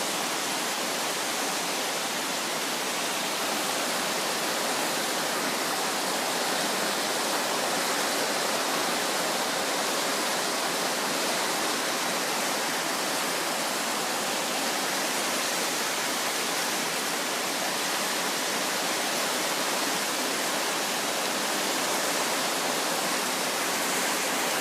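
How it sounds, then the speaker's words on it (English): Spring-thaw river rapids rush loudly and continuously below a bridge, with a small seasonal stream spilling over the side into them, a thick unbroken roar with no talking. "There's a little bit of a stream that's coming into the rapids at the river, and it's falling over the side."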